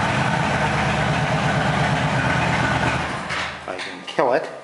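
A 2009 Kawasaki Vulcan Nomad motorcycle engine runs at a steady, rumbling idle right after starting, loud and close for about three seconds before the sound drops and a brief voice comes in near the end.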